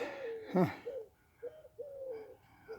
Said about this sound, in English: got a dove over there, or a pigeon making some noise.